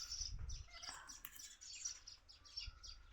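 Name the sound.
sparrows chirping in a babul tree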